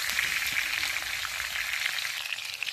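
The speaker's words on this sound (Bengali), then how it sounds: "কাঁচাগুলো লঙ্কা দিয়ে আবার একটু নেড়ে ছেড়ে ভেজে নিচ্ছি" Kohlrabi, potatoes and green chillies sizzle steadily in hot oil in a pan, a continuous dense frying hiss with faint stirring scrapes and no voices.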